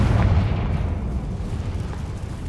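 A Confringo spell explosion in Hogwarts Legacy, a heavy deep boom that rumbles and slowly fades, with no talk over it.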